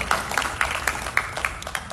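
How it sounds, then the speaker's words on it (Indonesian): A small audience at a press event for the series Second Account gives brief scattered applause, a handful of distinct nearby claps spaced unevenly over about two seconds. "Tepuk tangan boleh?"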